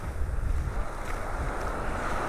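Rough, choppy surf churns at a North Naples, Florida beach, a steady broadband wash of breaking water mixed with gusty wind buffeting the microphone, with no clear pauses.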